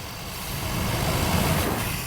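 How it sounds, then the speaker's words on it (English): A truck engine with HEI ignition and TBI fuel injection, running badly, rumbles nearby, rising slightly in a brief rev and holding a steady, gritty drone throughout. "Let's see how it revs."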